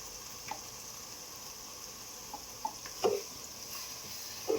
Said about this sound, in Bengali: নড়াচড়া করবো, একটু কষাতে দেবো মশলাগুলো।